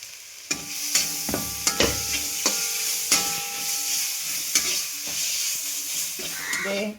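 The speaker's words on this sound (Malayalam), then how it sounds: "സബോള പച്ചമുളക് നന്നായി വഴന്ന് വന്നിട്ട് അതിലേക്ക് ഇഞ്ചി വെളുത്തുള്ളി ചതച്ചത് ഇട്ട് കൊടുക്കാം" Sliced onion, green chili and crushed ginger-garlic sauté in an oiled pan for a bone-and-tapioca dish. A steady close sizzle runs under repeated sharp spatula knocks and scrapes against the pan.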